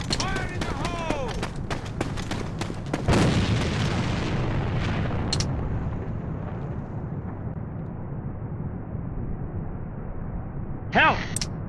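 A.V.A online shooter battle in Demolition mode: a grenade blast bursts at about three seconds amid rapid bursts of gunfire at the start and another short burst near the end, with game voices calling out over the action.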